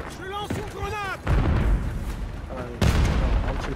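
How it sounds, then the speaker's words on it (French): Grenade explosions in the video game Modern Warfare 3, two deep booming blasts with low rumbling tails, heard after and partly under someone talking in French. "Je lance une grenade."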